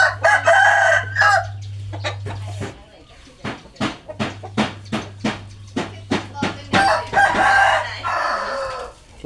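A fighting rooster crows loudly nearby on a farm, followed by a run of sharp rhythmic clucks, then more crowing; a low steady hum runs underneath.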